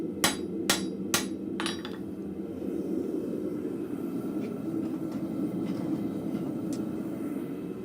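Four sharp, ringing hammer blows strike hot metal at a blacksmith's forge, close and evenly spaced, then give way to a steady low roar of the forge.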